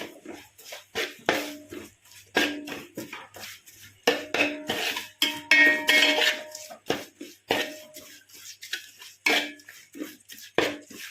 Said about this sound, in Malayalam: ഒരു 4 ടീസ്പൂൺ കാശ്മീരി മുളക് പൊടി നമുക്ക് ചേർത്ത് കൊടുക്കാം. വീണ്ടും നന്നായിട്ടൊന്ന് ഇളക്കി.